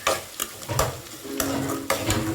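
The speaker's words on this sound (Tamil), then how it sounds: "வெங்காயம் நல்லா வதங்கட்டும்" Onions fry in a pan for a Sunday fish curry, sizzling steadily while a spoon stirs and scrapes them in several distinct strokes, close and loud with no talking.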